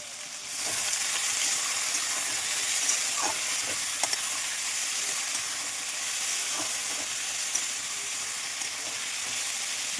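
Potato and pointed gourd pieces coated in salt and turmeric frying in hot oil, a steady close sizzle and hiss with a few soft stirring knocks, no voices.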